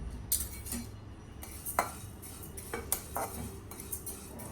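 Dal roasting in a pan for Diwali chakli bhajani, with quiet, irregular clinks and scrapes of a metal spoon stirring against the pan and only a faint sizzle beneath.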